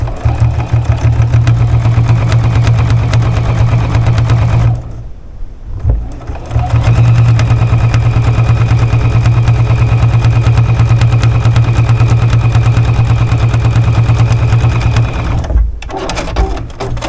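Sewing machine stitching a crossbody strip zipper bag runs loud and close in a steady whirring hum, pausing briefly twice before starting up again, with no talk over it.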